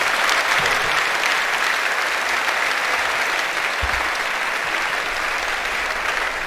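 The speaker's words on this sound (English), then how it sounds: "Put your hands together much louder." A hall full of students at an orientation programme claps continuously, the dense applause staying loud and even for several seconds, with a couple of faint low thumps underneath.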